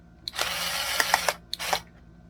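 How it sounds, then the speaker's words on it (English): A cordless power drill whirs in two close bursts, a longer run of about a second then a shorter one, while the battery hatch screw of a plug-and-play retro gaming console is opened. "I know the drill is overkill"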